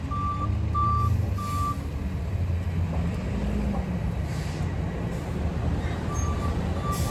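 Truck reversing beeps sound outdoors in a steady, evenly spaced series that pauses and then resumes, cutting through loud, constant traffic and street noise.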